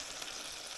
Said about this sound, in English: Hear that sizzling in there?